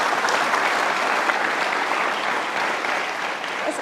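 A large audience applauds for a speaker in a broad, steady wash of clapping that holds at full strength throughout, with no other sound on top.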